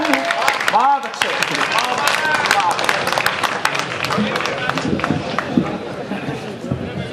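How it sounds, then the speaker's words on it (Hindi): Applause from an audience at a Hindi poetry recital, a steady patter of clapping mixed with crowd chatter and a voice talking over it throughout. "आपकी तालियां थोड़ी कम रही हैं"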